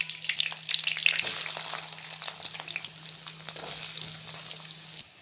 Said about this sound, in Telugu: ఆయిల్ హీట్ అయిన తర్వాత పచ్చి పచ్చిమిర్చి వేసుకోవాలి అవి వేడుతున్నప్పుడు ఉల్లిపాయలు కూడా వేసుకుంటాం